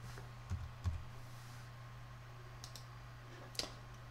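A computer mouse clicks a few times on a circuit-simulation program, quiet isolated clicks at an irregular pace over a faint steady electrical hum.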